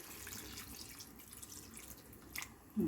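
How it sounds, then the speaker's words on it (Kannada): Water poured into a pot of chicken biryani makes a soft, faint trickle and splash, quiet and steady, with a brief louder knock at the end and no speech. "ಇವಾಗ ಎಷ್ಟು ಬೇಕು ಅಷ್ಟು ನೀರು ಕರೆಕ್ಟಾಗಿ ಹಾಕ್ಕೊಳ್ಳೋದು"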